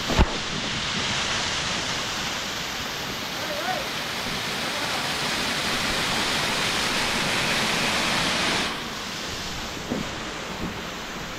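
A waterfall on a forest trek pours with a steady, loud broadband roar that fills the whole clip, dropping slightly near the end.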